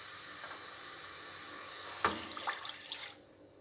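Water pours into a pan of sautéed onion for green moong dal, a short splashing gush with sizzle followed by a few smaller splashes, close and alone.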